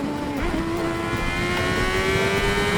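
A Honda CBR600RR sport motorcycle engine drones steadily with a rising pitch as it revs up after a brief dip following a downshift, a continuous loud mechanical roar.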